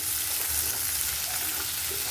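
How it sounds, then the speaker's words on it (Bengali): Onions sizzling in hot oil as tempering for a fish-head curry in a home kitchen, a steady, close hiss of frying that stays even and uninterrupted with no voices. "এই পেঁয়াজগুলো আমি সব ফোড়ন দিয়ে দিব।"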